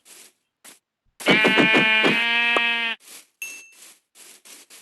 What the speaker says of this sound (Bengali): গাইস, একটা ভেড়া পেয়ে গেছি।